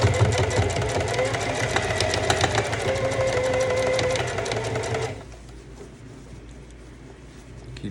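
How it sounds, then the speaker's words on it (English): Sewing machine stitching custom streetwear jeans, a steady loud mechanical whir with rapid stitching rhythm for about five seconds, then stopping abruptly, leaving a quieter low hum of the idle motor. "Keep sewing, and keep adjusting as you sew."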